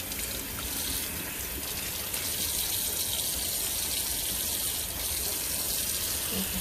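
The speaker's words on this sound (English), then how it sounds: "Turn that water off." Tap water runs steadily into a sink, a continuous close splashing hiss with no break throughout.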